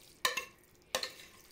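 A spoon stirs minced meat into cooked rice in a pot, two quick pairs of soft scraping strokes, faint and close, with no talk.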